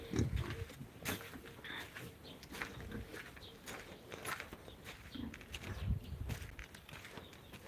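Black-and-white spotted pigs on a village farm, with scattered grunts and snuffling close by, along with footsteps, rustling and occasional birdsong.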